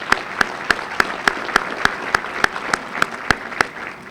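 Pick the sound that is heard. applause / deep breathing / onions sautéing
applause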